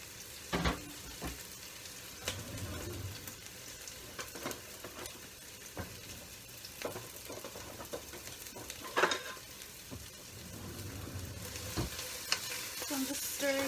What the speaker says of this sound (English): I really hope you can hear that sizzling because it sounds incredible.